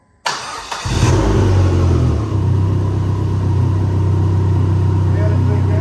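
2005 Dodge SRT-4 ACR cranks and fires up after a quiet moment, then settles into a loud, close, rumbling idle with some revving, while a voice speaks briefly.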